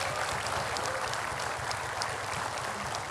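Moderate applause from a small gathering, a continuous patter of clapping without voices, fairly even throughout.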